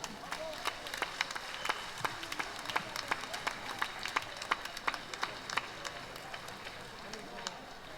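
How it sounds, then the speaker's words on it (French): Scattered hand claps from an audience at a town gathering in Saint-Laurent-de-la-Salanque, steady and moderately distant, forming a light round of applause that holds for several seconds. "je vous remercie tous de m'avoir applaudi tout à l'heure"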